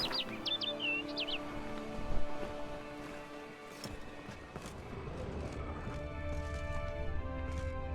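In The Witcher 3, a bird gives a few quick, bright chirps early on, fairly clear over game ambience, followed by horse hoof clops and background noise.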